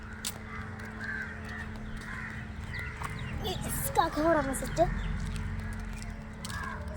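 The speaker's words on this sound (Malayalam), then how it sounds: "കാക്ക" A crow caws a few times at moderate distance during tea time outdoors, short harsh calls clustered in the middle, while a person talks over a steady background hum.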